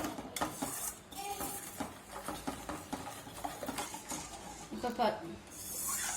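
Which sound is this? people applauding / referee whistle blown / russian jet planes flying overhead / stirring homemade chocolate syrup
stirring homemade chocolate syrup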